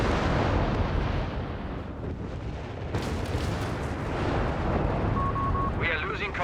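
Flak 36 shells slam into a Sherman tank during a Company of Heroes 3 battle. A dense, rumbling barrage of blasts and gunfire rolls on, and a commentator talks over the noise.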